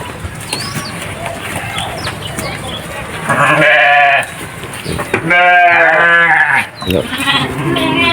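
Sheep and goats bleat on a farm raising Australian breed goats, two loud wavering near bleats following each other in the second half after quieter farm background sounds.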